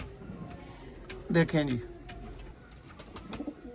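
Pigeons for sale, Sialkoti, Ferozpuri and golden breeds, give a soft coo near the start among quiet ticking and rustling, with a voice speaking briefly over it.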